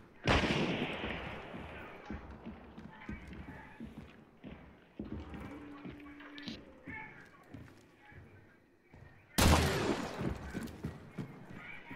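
Gunfire in the video game Hunt, with two sharp loud shots spaced apart amid horse neighs, hoof clops and rustling movement, as a voice talks in the background.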